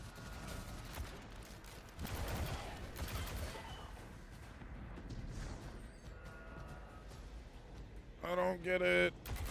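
Gunfire rings out in the Destiny 2 video game: scattered bursts of rapid shots over a noisy game soundscape, with a sharp, bright burst of fire near the end.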